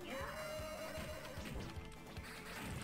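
A horse whinnies loudly in the video game Turtles in Time, a drawn-out shaky neigh followed by soft hoof clops and rustling.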